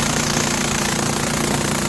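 A Tecumseh 5HP engine on a Craftsman leaf vacuum chipper runs loud and close, a dense, rough, continuous drone with rapid knocking pulses and no pauses.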